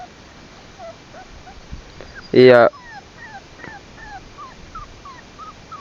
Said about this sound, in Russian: Вот он скулит вот.